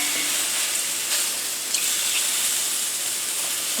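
Portabella mushrooms sizzle and brown in a cast iron pan, giving off a steady, close, bright hiss of frying that carries on without a break.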